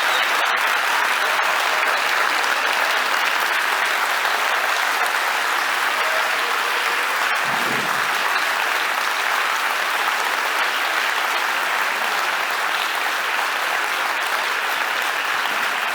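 A hall full of people gives a long, sustained round of applause for a woman named Gemma, an even, unbroken roar of clapping that holds at the same strong level from start to finish.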